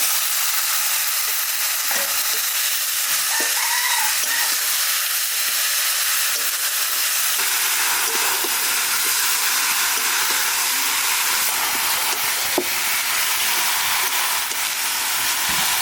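Chicken frying in hot oil over garlic and onions that were browned first, giving a loud, steady sizzle and crackle throughout, with a few faint clinks of stirring and no talk.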